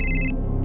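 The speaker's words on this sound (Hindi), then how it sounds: "बायकोचा फोन आलाय, थांब" A telephone rings in a TV crime drama scene, a bright electronic tone sounding for about a third of a second before cutting off, leaving low background hum.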